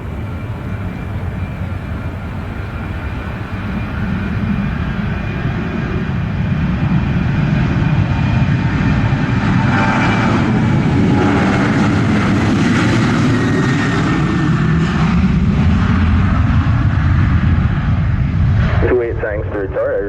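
Delta flight 1801 landing on runway 7 at Montego Bay, Jamaica, during rain delays: a loud, sustained jet engine roar that swells and shifts in pitch, then cuts off abruptly near the end.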